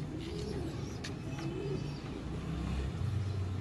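Missa pigeons coo steadily in low, warbling phrases, several birds overlapping close by with a faint chirp and distant traffic behind them.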